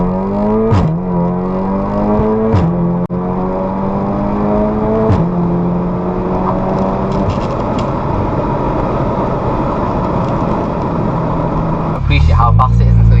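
A tuned 620bhp Audi S3 8V accelerates hard on a public road, the engine pitch rising repeatedly and dropping at each of several quick gear shifts, loud and sustained.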